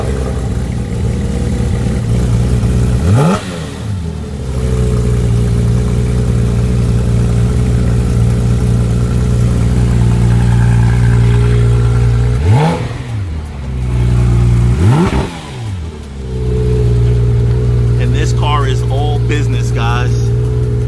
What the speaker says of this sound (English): listen to the GT3 RS start up